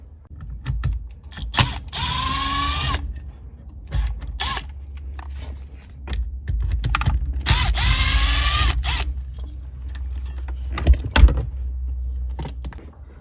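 A powered screwdriver whirs in two longer bursts, with ratcheting clicks and metallic handling between them, while screws are removed from the SRS reel behind a car steering wheel at close range.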